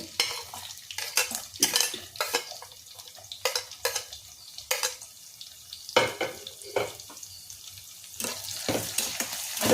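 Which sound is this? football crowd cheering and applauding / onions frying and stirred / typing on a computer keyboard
onions frying and stirred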